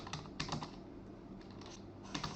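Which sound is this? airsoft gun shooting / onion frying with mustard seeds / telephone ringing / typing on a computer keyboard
typing on a computer keyboard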